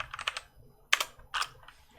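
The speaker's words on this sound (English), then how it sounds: "I don't type on a desk, so this is like on my lap." A laptop keyboard typed on while it rests on a lap. Quick, close clicks of keys come in short bursts with brief pauses between them.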